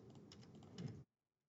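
Computer keyboard keys, used as arrow keys, tapped in a quick run of light clicks for about a second, close up, then everything goes silent.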